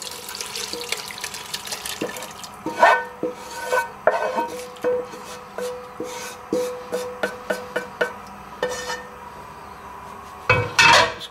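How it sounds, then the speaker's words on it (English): Boiled liquid for a Tuscan beef stew being poured into a casserole dish, with splashing water, light clinks of dishes and utensils, and scattered drips across a kitchen, sharper clatter near the end. "once the liquid is boiled, we'll just pour it into the casserole dish"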